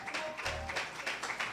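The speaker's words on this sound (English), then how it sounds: "Give chiefs Chief Judge Tim Evans a round of applause" Audience applause for Chief Judge Tim Evans, who is running for retention, at a political event: a steady wash of many hands clapping at moderate volume, filling the short moment without speech.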